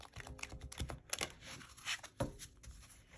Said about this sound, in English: I guess I could do my little side waterfall shuffle as well